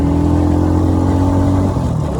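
Engine of a worn, shabby motorbike carrying three riders on the road, a steady droning hum held under load with a slight dip near the end, loud and close with constant road noise.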